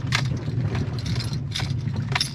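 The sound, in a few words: keys smacking as off-road truck bounces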